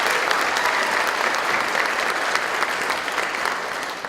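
An audience at a 2017 candidate forum claps loudly and steadily in welcome for a candidate, a dense sustained applause that fades slightly toward the end.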